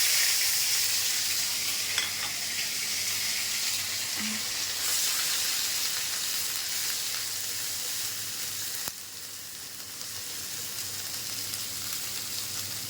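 Onion, ginger, green chili and mustard paste frying in a tablespoon of oil for a hilsa and tomato curry, a steady close sizzle throughout with occasional stirring taps.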